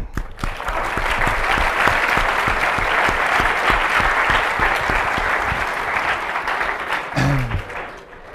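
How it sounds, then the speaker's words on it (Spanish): An audience at an awards ceremony for women in engineering and science bursts into sustained applause for several seconds, then it fades as a voice begins to speak. "Aplauso."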